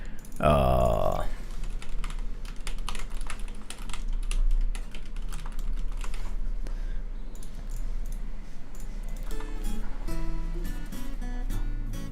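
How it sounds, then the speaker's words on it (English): Steady typing on a computer keyboard, a fast run of close key clicks that continues throughout, with a brief louder burst near the start and faint background sound. "let me actually type it here"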